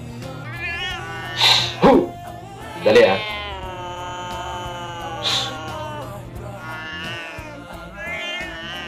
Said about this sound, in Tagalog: May pusa dito, may ingay.